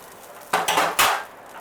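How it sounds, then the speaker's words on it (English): A small frying pan handled on a stovetop, giving two or three quick clanking metallic knocks in close succession, close and fairly loud over quiet room background. "Now we want to heat a little pan up."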